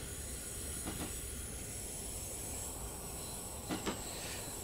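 A two-car Tohoku commuter train running in Train Simulator 2022, with steady rail rumble and hiss throughout and a couple of brief clicks of wheels over track joints.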